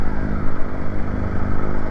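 Yamaha R15 version 2 motorcycle engine runs close and loud, its pulsing buzzy drone rising and falling slightly with the throttle, with no talking over it.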